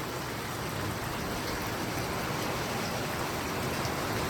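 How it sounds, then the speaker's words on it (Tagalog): Heavy rain pours down in a steady, dense hiss, loud and unbroken throughout, with no voices. "Kaya lang lakas ng ulan mga bossing."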